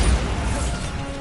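A Bombarda blasting spell strikes in the video game Hogwarts Legacy, a loud, dense crashing impact with a heavy low rumble that stays strong through the short burst.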